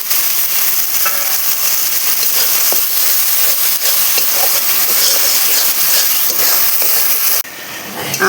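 Green peas tipped into a wok of sizzling tomato masala, giving a loud, steady frying hiss with light stirring scrapes and crackles throughout, cut off abruptly near the end.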